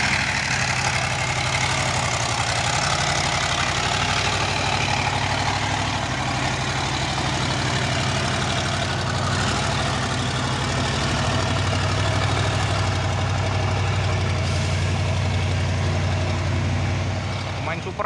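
A motorized cargo becak hauling a half-ton load runs its engine with a leaking exhaust, giving a loud, continuous rough drone with low thumping throughout, steady and close, and no clear voices on top.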